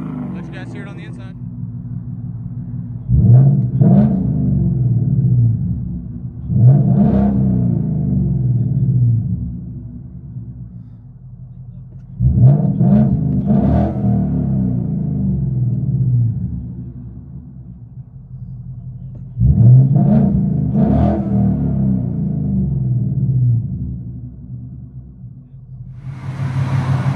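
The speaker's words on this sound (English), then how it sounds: "Mustang ROUSH Stage 2, X pipe, straight pipe" Straight-piped Ford Mustang ROUSH Stage 2 with an X-pipe, heard from inside the cabin: deep rumbling revs surge up in several loud bursts, each swelling and settling back into a low idle between them.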